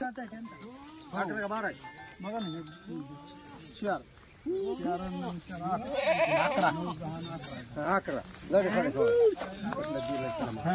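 Kathiawari goats bleat again and again at a livestock sale, loud wavering cries from several animals close by, overlapping with people talking and bargaining throughout.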